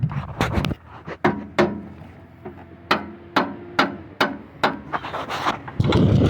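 A hammer taps an extension into place on a V8 Fox Body Mustang at an irregular pace, sharp close knocks with short pauses between strikes, and some shuffling noise near the end.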